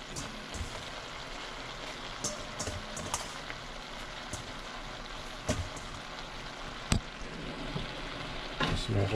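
Pechay leaves stir-frying in a pan give a steady crackling sizzle, broken by sharp clicks and scrapes of stirring, at close range and with no talk.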